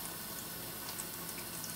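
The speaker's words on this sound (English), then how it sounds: "you'll be able to see one moment the water coming through the sprinkler hose" Water running through a dishwasher's sprinkler hose, a faint, steady hiss and trickle that holds even throughout, with no voices.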